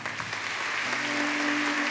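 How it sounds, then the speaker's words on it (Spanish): Church congregation applause after a sermon and prayer, a dense continuous round of clapping that swells slightly and holds steady, close and fairly loud. "Un fuerte aplauso."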